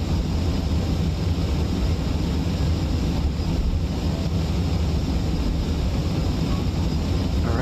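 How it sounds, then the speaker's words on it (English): A jet aircraft engine roars steadily with afterburner lit in Kerbal Space Program, a continuous broadband rushing thrust that stays loud and unbroken throughout, with no voices. "throttle, afterburner's on."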